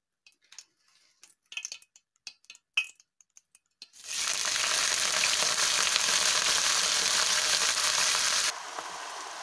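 Red Swiss chard hitting hot oil in a pan: several sharp clicks and knocks first, then a sudden loud, steady sizzle that holds before easing slightly at the end.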